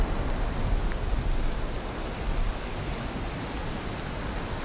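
Steady rainfall from the video game Valheim hisses continuously, a dense, even wash that is slightly louder at first and then settles to a constant level, with no voices.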